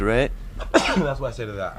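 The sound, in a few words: sneeze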